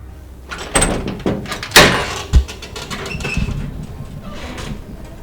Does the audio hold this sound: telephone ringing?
no